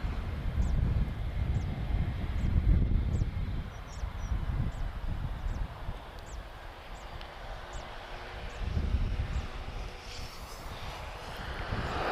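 TAP airliner at Lisbon Airport, a steady low engine roar swelling and fading across the whole stretch, with faint wind noise and occasional bird chirps over it.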